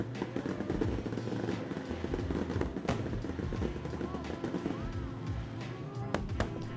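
Harbor fireworks show at a tugboat festival in Waterford, New York, heard from a distance as a dense, ongoing crackle of pops and bursts, with a few sharper bangs over a busy outdoor crowd murmur.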